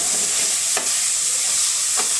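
A ghee tempering for a spinach and turnip dish sizzles loudly and steadily in a pan, with two spoon scrapes as it is stirred and no talking.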